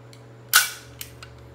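A single sharp airsoft pistol shot, from a KWC Glock G7 or Umarex Walther PPQ, cracks out loudly and close over a low steady hum, followed by a fainter impact a moment later.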